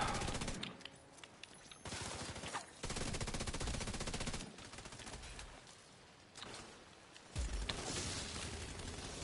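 Enemy gunfire in the shooter game The Division 2 comes as dense, rapid automatic bursts separated by short gaps, loud and close, with no talk over it.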